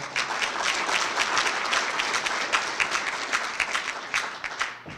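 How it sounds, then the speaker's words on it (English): Guests at a high school football banquet applaud as the board president is called up, with dense clapping and a few distinct sharp claps that carry on evenly and taper off at the close. "Please give him a round of applause."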